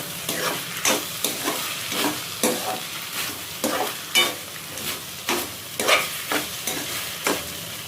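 Okra and tomato curry gets stirred in a pan with rhythmic scraping strokes roughly twice a second over a light sizzle, close and clear with no voices.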